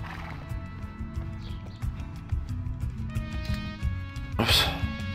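A horse whinnies loudly near the end in the video game Elder Scrolls Online, rising over a steady bed of game music and background effects.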